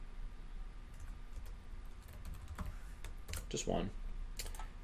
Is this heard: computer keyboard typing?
yes